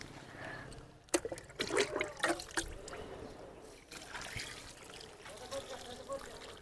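Water splashes and gurgles in a couple of short mug pours onto a drum of dry-leaf compost, followed by trickling, with quiet talk around it.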